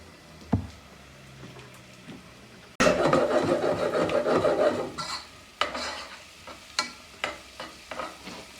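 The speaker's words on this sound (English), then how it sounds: "you have to stir in the white vinegar" Frying food with white vinegar and dark soy sauce stirred in, a sudden burst of loud sizzling that fades into a series of spatula scrapes and knocks against the pan.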